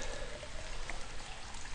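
A liter of water being poured, a soft continuous splashing stream lasting under two seconds, close and fairly quiet with no talking.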